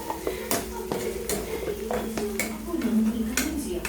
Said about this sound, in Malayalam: ഇനി നമ്മൾ അതൊന്ന് ഇളക്കാം